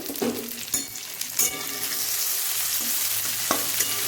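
Chopped tomatoes sizzle with fried onions in a pan as a spatula stirs, giving a close, continuous frying hiss broken by several sharp scraping knocks.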